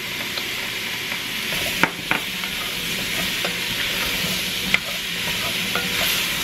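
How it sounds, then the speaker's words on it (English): Garlic cloves for a braised pot roast are tossed in a hot pan, giving a steady, close sizzle with scraping stirs and a few sharp clacks of the utensil against the pan. "Give it a nice toss."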